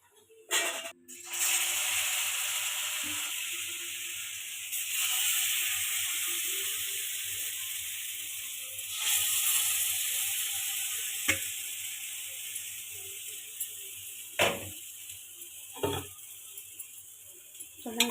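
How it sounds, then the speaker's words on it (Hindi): Curry ingredients with red masala and chicken masala frying in a pan: a loud, steady sizzle runs throughout, broken near the end by a few sharp clinks and scrapes of a utensil against the pan. "मैं सब तल रही हूँ।"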